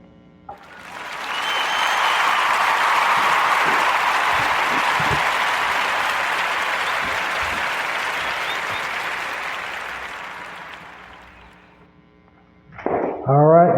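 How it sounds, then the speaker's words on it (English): A warm round of applause for three brothers swells smoothly, holds full and even for about ten seconds, then tapers away before a brief voice and sharp sounds at the end. "join me into giving them a warm narrative round of applause"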